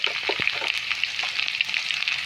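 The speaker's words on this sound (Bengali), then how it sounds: "কড়াইতে তেল গরম করে তার মধ্যে গাঠিগুলো দিয়ে আমরা ভালো করে ভেজে নেব" Taro pieces frying in hot oil in a wok make a bright, steady sizzle with scattered small pops and crackles, close and even in level.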